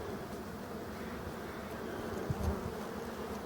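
Bees buzz in a steady, dense hum at the hive entrance, close and moderately quiet, with a couple of soft knocks near the end.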